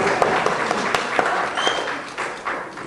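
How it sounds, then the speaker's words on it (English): An audience at the Chandrayaan-3 Moon mission launch event at Satish Dhawan Space Centre claps steadily and close by, a lively round of applause with some sharper individual claps. "let us all clap"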